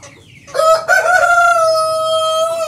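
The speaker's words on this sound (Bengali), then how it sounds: "দেখেন অনেক সুন্দর সুন্দর হাঁস মুরগি" A loud, close rooster crow on a poultry farm with Fayoumi and Tiger chickens, one long drawn-out call that holds steady before trailing off, with quieter clucking just before it.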